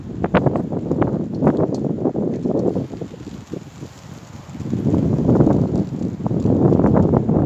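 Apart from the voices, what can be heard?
wind blowing in winter woodland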